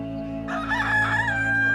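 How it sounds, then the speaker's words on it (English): A rooster crows once among native chickens at a zoo in Gossau, St. Gallen, Switzerland: a loud, close, drawn-out call rising and holding over a steady low background hum. "And here is also a lot of natives chicken."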